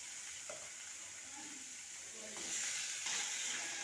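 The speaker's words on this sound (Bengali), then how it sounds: "পেঁয়াজ কুচি আর আলুটাকে একসঙ্গে ভেজে নেব" Chopped onion and potato frying in hot oil with green chillies in a pan: a faint, steady hiss and sizzle that swells louder midway, with light stirring noises and no voices.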